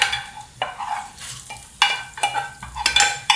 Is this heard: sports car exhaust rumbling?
no